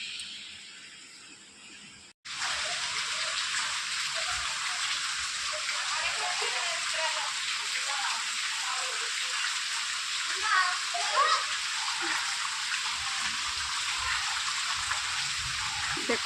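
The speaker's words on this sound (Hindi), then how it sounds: "देखो भाई कितनी तेज़ बारिश हो रही है" Heavy rain pouring down on a village lane flooded with water, a dense, steady loud hiss of downpour with a faint voice now and then underneath.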